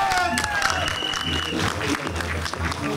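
Audience applause at a film trailer launch event for actor Mukesh Tiwari, steady and dense, with crowd noise underneath and an announcer's voice mixed in over the clapping.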